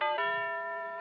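A doorbell in a Christmas-wired house in a 1958 radio drama, a single bright electric chime ringing steadily for about a second, close and clear with no voices.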